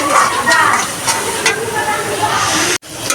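Spice masala sautés in a pan before meat is added, giving a loud continuous sizzle and hiss with stirring clinks, cut off by a short silence near the end.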